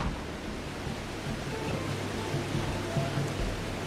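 Water waves in the game Sly Cooper: Thieves in Time make a steady, broad surf wash with a soft low rumble, continuous and even throughout, heard alone with no talking.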